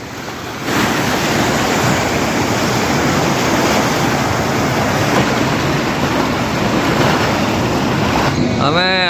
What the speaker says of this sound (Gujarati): ઓલી બાજુ મોજા આવે એ બતાવો